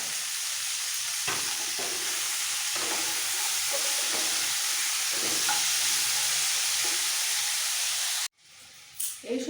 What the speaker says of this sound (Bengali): একটু নরম হওয়া পর্যন্ত হালকা ভেজে নিতে হবে